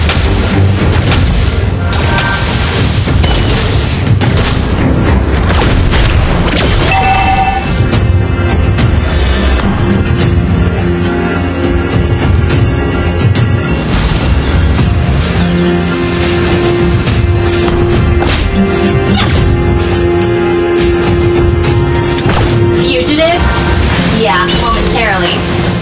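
Energy gun shots from Layla in a Mobile Legends one-on-one match, loud booming blasts packed into dense game audio with music and effects, under continuous speech.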